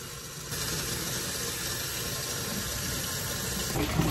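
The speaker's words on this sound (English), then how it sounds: "I just ran water through the pot for a little while, and now I'm gonna let it drain in the sink" Tap water runs steadily in a sink, flushing through a houseplant pot and draining in a continuous close hiss and splash.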